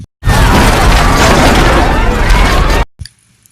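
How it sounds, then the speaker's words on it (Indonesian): A bomb in a money suitcase explodes in the 2013 film The Suspect, a loud, sustained roar for nearly three seconds, rumbling and crackling, then cutting off abruptly, leaving a faint thud and near silence. "ledakan pun terjadi"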